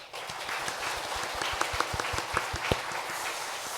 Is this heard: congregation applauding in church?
yes